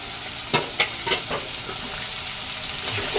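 Green pigeon pea curry cooking in a pan with chutney added, a steady sizzle punctuated by a few sharp spatula scrapes and knocks early on.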